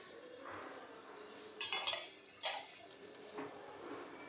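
Peanuts are stirred and fried in oil in a pan for chira pulao, giving faint, scattered scrapes and clinks of a utensil against the pan over a soft, quiet background.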